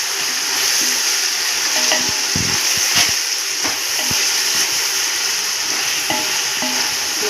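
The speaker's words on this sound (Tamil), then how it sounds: "வெங்காயம் வதங்கி வரட்டும்" Onions and stemmed green chillies sauté for chicken biryani in a steady, loud sizzle that fills the whole stretch, with scattered scrapes and knocks as they are stirred in the pan.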